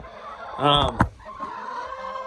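Hens clucking and squawking nearby in a brief excited burst, followed by a softer, steady murmur of birds in the background.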